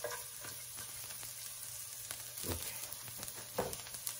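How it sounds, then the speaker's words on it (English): Chopped garlic frying in a pan that pork chops were just cooked in, a soft continuous sizzle with a couple of louder stirring knocks, no speech. "I'm going to add 2 cloves of chopped garlic"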